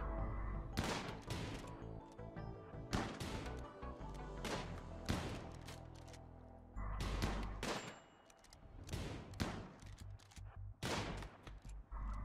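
Rifle fire from the video game Rimworld comes as repeated sharp, loud shots in rapid clusters, with booming low-end thumps spaced across the whole stretch and no talking.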